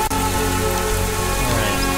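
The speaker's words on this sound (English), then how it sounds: "Ooh, it's raining. Dark rain." Dark rain in the video game World of Goo makes a continuous, even hiss beneath sustained musical tones, with no voices.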